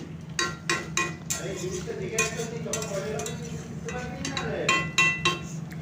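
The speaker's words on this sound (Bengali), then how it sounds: "এরপর নেড়ে নেড়ে আমি এটা একটু একটু শুকনো করে নিচ্ছি" A spoon stirs and scrapes through a vegetarian curry of spinach greens, eggplant and ridge gourd in a pan. Metallic clinks and scraping strokes come in irregular bursts over a low background.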